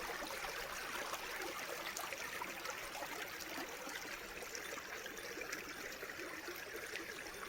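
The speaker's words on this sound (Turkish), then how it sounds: "Bayağı bir dere gibi. Akıyor." Snowmelt water flows like a small stream, giving a faint, continuous rushing trickle that stays steady and even with no breaks.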